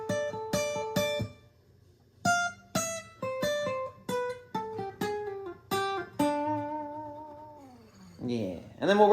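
Electric guitar playing a bluesy lick with slides and pull-offs from a song lesson: a run of plucked notes, some quick clusters, ending in sliding, gliding pitches, clear and alone.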